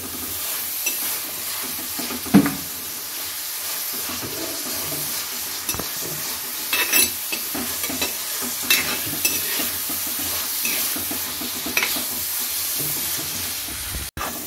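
Onions and green chillies sautéing in a pan for a fish curry, with a steady sizzle and repeated scraping stirs across the whole stretch, close and fairly loud, and no talking.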